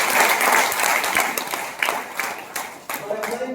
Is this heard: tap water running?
no